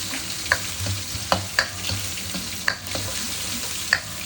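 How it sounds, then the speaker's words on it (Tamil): Fish frying in a pan, a steady close sizzle broken by several sharp spatters and pops at irregular intervals, with no talking. "எங்கிட்ட பார்த்திங்கன்னா மீன் பொரிஞ்சுக்கிட்டு இருக்குது"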